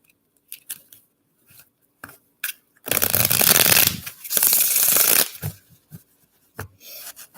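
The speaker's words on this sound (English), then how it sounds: "All right, we're going to shuffle one more." A deck of cards is shuffled in a loud, riffling burst of about two seconds, followed by a few softer taps and rustles as the cards settle.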